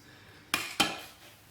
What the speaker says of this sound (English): And this is Micha, how he prepares our very nice meal of noodles and tomato sauce.